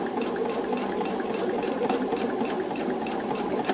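Close, steady whirring of a sewing machine running a tiny back stitch on quilt fabric, continuous and even throughout with no pauses.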